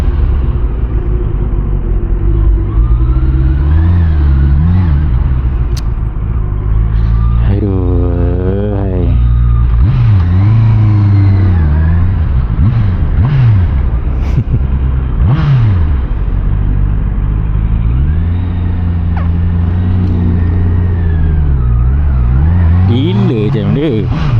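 A Honda CB650R with E-Clutch is ridden in first gear without the clutch. The engine rumbles loud and close throughout, with rising and falling revs, while a rider talks over it.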